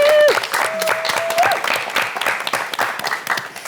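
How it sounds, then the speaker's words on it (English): Studio audience applause on a multicultural talk show, a sustained, dense clapping that starts right after a sung note and continues loudly with scattered cheers throughout. "So let's give a big round of applause for Abigail."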